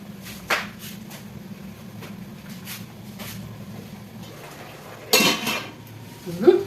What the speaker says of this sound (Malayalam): അങ്ങനെ നമ്മൾ തലക്കറി നമ്മൾ മൂടി വെക്കാം.